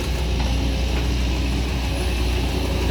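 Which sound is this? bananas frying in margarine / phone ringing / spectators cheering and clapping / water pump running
water pump running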